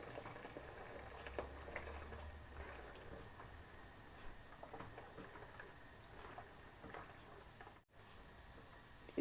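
Milk simmering in a pot for phirni while a spoon stirs it, a faint, steady low bubbling with soft scraping and no voices.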